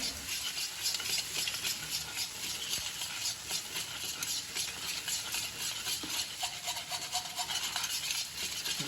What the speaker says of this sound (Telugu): ఇలా కళాయిలో వేసుకొని ఇలా తిప్పుతూనే ఉండాలి